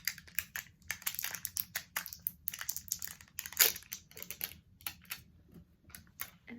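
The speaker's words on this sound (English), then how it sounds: "We open it via blue packaging." Close, quiet crinkles, taps and clicks of blue packaging being opened on a Nutella jar come in quick, irregular bursts, soft and intimate, with no voices.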